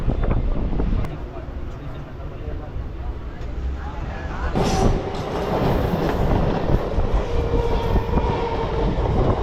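A Chennai EMU suburban train pulls into Pallavanthangal station with a rumbling, clattering roll and wind buffeting the microphone, the noise swelling midway as it continues under someone talking.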